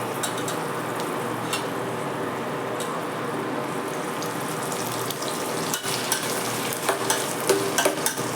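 Tomatoes frying in oil for paneer thokku, with a continuous close sizzle and stirring scrapes throughout and a few sharper clatters near the end, no talking.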